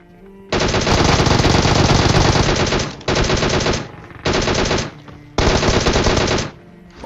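Rapid automatic fire from the DP gun in PUBG Mobile, four loud close bursts of dense gunfire, the first long and the rest shorter, separated by brief gaps, with no talk.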